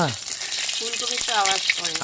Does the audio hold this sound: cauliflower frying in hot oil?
yes